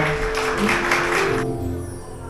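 A fundraising event audience applauds ahead of a song, a dense burst of clapping that stops abruptly, leaving a quieter room with faint tones.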